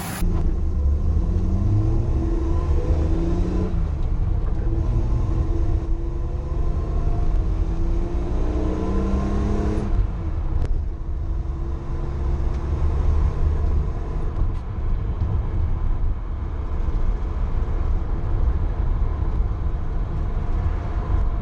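A Datsun 260Z on a test drive after a carburettor float adjustment, its engine drone and road rumble steady and close throughout with rising and falling gear tones, no one speaking.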